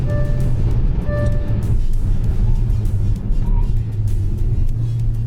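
A Kia Seltos X-Line SUV engine drones loudly and steadily up close, with brief tonal whines early on as it pulls hard through quick shifts.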